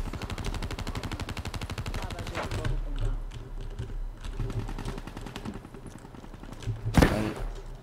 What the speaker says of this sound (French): Je tire n'importe où.